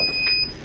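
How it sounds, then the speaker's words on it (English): Electric wheelchair giving off electronic beeps: a steady high tone near 3 kHz and a second one above it, held for most of the short span and then fading, with a faint low background hum. "And then them beeps on this wheelchair."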